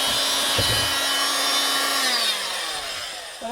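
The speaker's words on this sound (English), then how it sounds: "I'm going to put those two screws in so the bed doesn't move" A power driver whirs briefly and close up as screws go into a microcamper's bed frame, a single rising-and-falling whine over several seconds with no talking.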